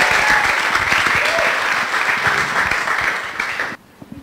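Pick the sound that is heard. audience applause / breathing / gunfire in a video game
audience applause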